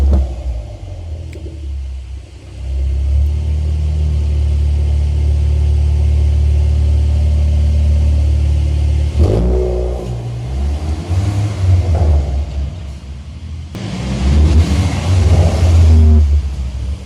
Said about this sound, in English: It sounds so thunderous with the Akrapovic exhaust.